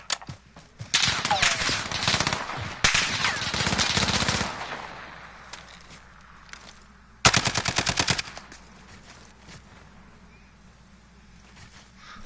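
Loud bursts of fully automatic M4 rifle fire in Warzone, a long rapid stream and then a second shorter burst, separated by quieter stretches of faint background sound.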